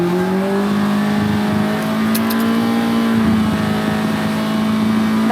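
A Mazda MX-5 engine, set in an RX-5 build on a Sport 200 Black Panther, is held at high revs around 6,800 rpm, a loud sustained tone that climbs slightly and stays steady.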